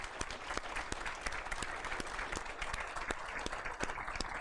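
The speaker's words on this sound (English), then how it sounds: "Let's give him a round of applause." Crowd at a security conference keynote claps together, a steady, fairly distant wash of many hands with sharper individual claps popping through, continuous for several seconds without speech.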